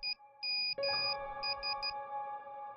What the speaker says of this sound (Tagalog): Makalipas ang ilang minuto, tumunog ulit yung cellphone.